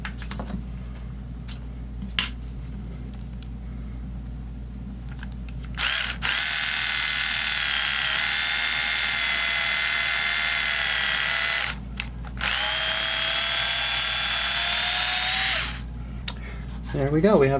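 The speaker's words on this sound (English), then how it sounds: "There we go, we have our screw hole drilled" A power drill whirs steadily while boring a screw hole into a bass guitar body, a close, sustained high motor whine running several seconds, pausing briefly, then resuming before stopping; a voice talks around it.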